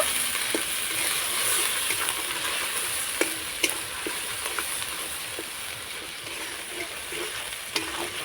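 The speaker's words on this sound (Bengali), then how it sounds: "এবার আমি মশলাটা তেলের সঙ্গে ভালো করে কষিয়ে নিব" Masala with salt, turmeric and red chilli powder fries in oil for a spinach dish, a steady close sizzle punctuated by scattered taps and scrapes of the stirring spatula, no voices.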